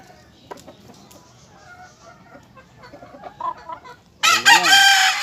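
At a stag farm in the Philippines, chickens cluck and stir quietly, then a rooster crows loudly and close in a long drawn-out call.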